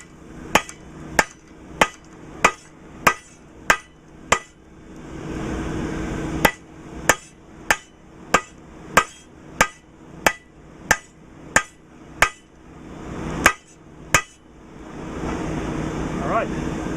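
A hammer strikes yellow-hot steel on an anvil during forge welding at a ranch. About twenty sharp, ringing blows land in steady rhythmic runs, broken by two short pauses, close and loud.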